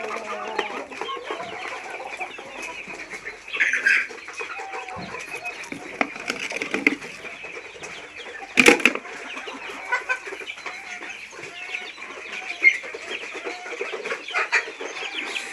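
Chickens cluck continuously at a poultry market, a dense, moderately loud chorus of many birds with a brief burst of flapping wings midway.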